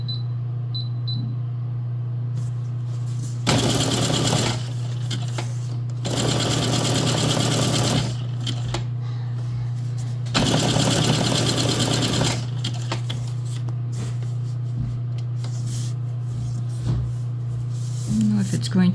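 A sewing machine stitches zigzag over a foam cover in three loud, close bursts of rapid mechanical whirring, separated by a steady low motor hum.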